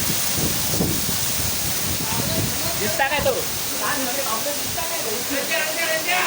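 A waterfall pours during monsoon rain in the Konkan region near Ratnagiri, making a steady, broad rushing roar that fills the whole clip while people talk and call out over it.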